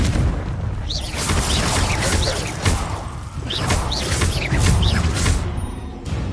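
Confringo blasting spell explosions in Hogwarts Legacy: several booming bursts with crackling debris recur across the clip, loud and dense, layered over rumbling game action.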